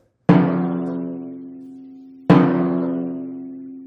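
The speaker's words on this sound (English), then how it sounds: "a bad dampening that's too close to the edge sounds like this." Two separate timpani strikes, each dampened badly too close to the drumhead's edge, so every hit keeps ringing with a long, slowly fading resonant tone, the second following about two seconds after the first.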